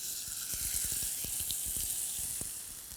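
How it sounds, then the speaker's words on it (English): Sirloin steak laid into a hot frying pan, giving a steady hiss of sizzling fat with scattered pops and crackles throughout, close and moderately loud. "what you want to hear is a real sizzle when you put it in"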